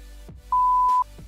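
A single sharp censor beep, a pure steady tone lasting about half a second, cuts loudly across quiet background sound.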